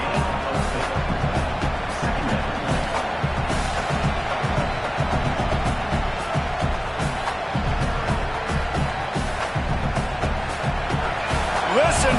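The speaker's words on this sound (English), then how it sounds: "Listen to this crowd just shaking the girders of this place trying to help their defense." A packed football stadium crowd roars continuously and loudly to urge on the home defense, a dense sustained wall of cheering and noise with a commentator's voice running over it.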